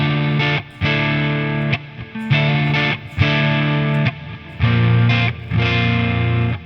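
An electric guitar plays through a gain boost pedal on a simple worship pedalboard. Sustained, thick overdriven chords ring out in several separate strums, with short gaps between them.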